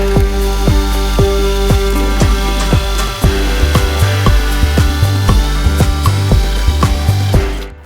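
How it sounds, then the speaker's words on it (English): Power drill boring dowel holes into a board through a dowel jig for a kitchen unit, a steady close whine with repeated sharp bites and dips as the bit cuts, no talk. "So that's all the holes drilled."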